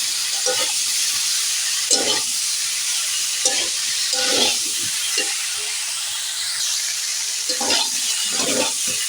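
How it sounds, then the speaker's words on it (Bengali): Ash gourd sizzles steadily in a pan while a utensil scrapes and stirs in repeated bursts, close and moderately loud. "একটু ছাঁচি কুমড়োতে এইভাবে ভাজা হয়ে গেলে"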